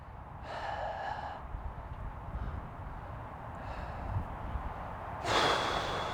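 Audible breathing during Ashtanga yoga outdoors near the Golden Gate Bridge in San Francisco: a few breathy exhales rise over steady wind noise, with a stronger gust-like breath near the end.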